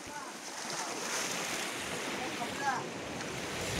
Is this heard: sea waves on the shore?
yes